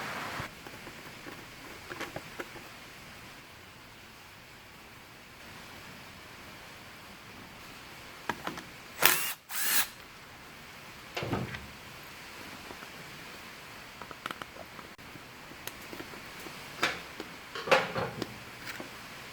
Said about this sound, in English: we're just going to have to live with this awful, loud rain noise